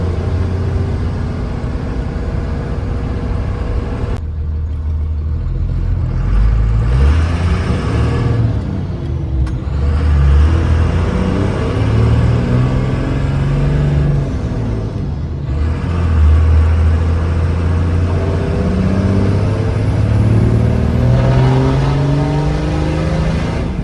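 A loud engine revs hard repeatedly, rising and falling in pitch with throaty rumble between gear changes, close by.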